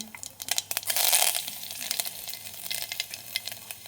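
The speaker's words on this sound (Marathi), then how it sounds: "झालेलं आहे तेल गरम, जिरे मोहरी छान झाले तेल गरम. थोडासा लसूण फोडणीला" Garlic hits hot oil already popping with cumin and mustard seeds, a loud hissing sizzle that swells early and then settles into a crackling fry, close and alone.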